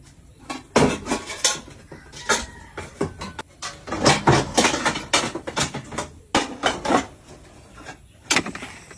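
Metal cooking pots clank and rattle against each other as they are carried outdoors toward a creek, with close, irregular bursts of clattering and knocking repeating over several seconds.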